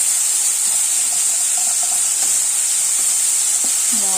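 Shallots and green chillies sizzle steadily in a frying pan while squid thoran is prepared, a constant close hiss with faint crackles and no voices over it.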